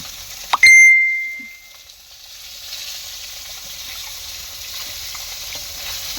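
Fish frying in a pan gives a steady soft sizzle, opened by a sharp metallic clink and a brief ringing tone, then a low hiss that lingers at moderate level with no talk.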